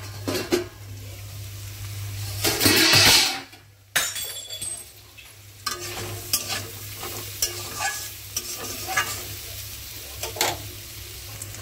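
Rice is tossed into hot oil with salt, cumin seeds, garam masala and bay leaf, then stirred in a pan: a brief loud sizzle followed by scraping strokes and soft clinks against the metal.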